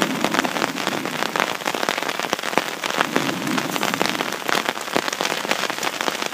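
Steady rain patters densely over a Kelly Kettle fire setup outdoors, with many close, crisp drops striking surfaces throughout and no talking.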